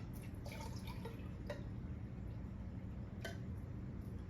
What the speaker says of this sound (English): Let me put some more water in here.